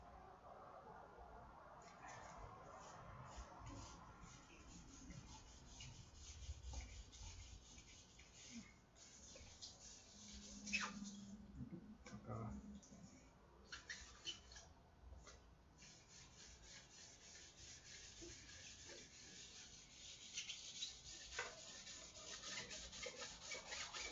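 Fine rubbing strokes of 10,000 grit sandpaper on a varnished guitar body, steady and close, with faint scratchy friction.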